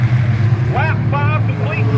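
Stock race cars roar down the backstretch of an oval speedway, a steady loud engine drone under an announcer calling the race.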